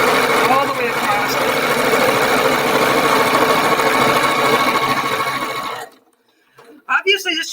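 Close, continuous whirring of a sewing machine running a long straight seam, holding steady for about six seconds before cutting off, followed by a few faint handling noises.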